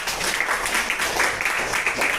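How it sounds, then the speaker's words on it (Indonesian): Classmates in an Islamic religious studies lesson on congregational prayer clap together, a moderate, steady patter of hands lasting the whole moment with some faint voices mixed in. "tepuk tangan untuk Ananda Jaratun."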